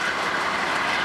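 A CSX freight train rolls past nearby, a loud steady roar of wheels and rail noise without a break.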